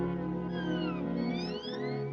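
A cat meows in long, wavering, rising and falling cries over a steady background hum, close and continuous for a couple of seconds.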